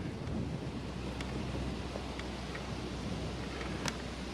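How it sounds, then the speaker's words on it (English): Wind blows steadily at a creek off the Murray River in a state forest, a constant broadband rush with low microphone buffeting and no voices. "Not much of a day, pretty windy"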